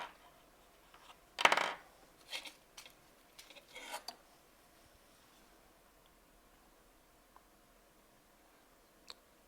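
Scissors cut a strip of jelly-roll quilting fabric in half, giving a few crisp, close snips in quick succession near the start and then quiet.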